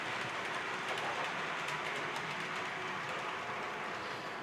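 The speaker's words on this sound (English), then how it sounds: "one full circle. 13 rolling stock and 2 locomotives." A model train with two locomotives and thirteen pieces of rolling stock running on its track, a steady close whirring and rattling hum with faint rhythmic clicks, continuous throughout.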